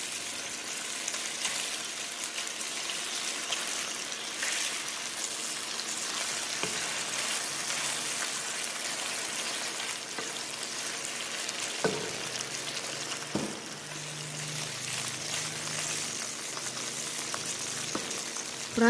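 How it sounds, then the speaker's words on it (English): Continuous crackling sizzle of chicken frying in hot oil for chow mein, steady throughout, with a few clinks and a low hum partway through. "We will start by frying our chicken first."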